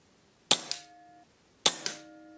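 Two rifle shots fired at a target, each a sharp loud crack followed by a quick second report and a short ringing tail, spaced about a second apart with no talking.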